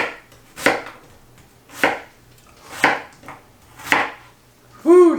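Half a white onion being chopped on a board, four evenly spaced firm knife strikes about a second apart, close and clear, ending with a brief ringing clink.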